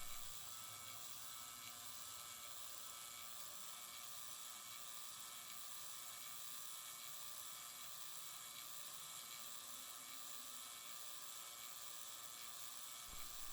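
An HVAC vacuum pump pulling a system down toward 200 microns, a steady close mechanical whir with a fine rattling buzz that holds constant throughout, with no talking.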